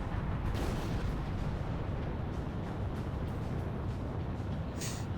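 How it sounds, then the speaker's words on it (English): Missile explosion in the Ace Combat 6 flight combat game, heard as a sustained low roaring rumble with scattered bursts, loud and continuous throughout, with no voices. "Missile struck target."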